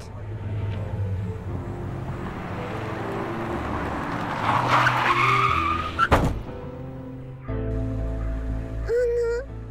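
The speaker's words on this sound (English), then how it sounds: "Oh, I got hit by a car." Car hitting the player in the video game Little Misfortune: a rising engine roar and tire squeal, then a sharp thudding impact, followed by quieter game ambience and a brief tonal chime.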